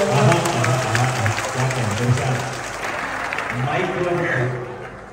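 A rally audience claps in a dense, steady wash through most of the stretch at a Palestine-themed political speech, easing slightly toward the end while voices ring over it.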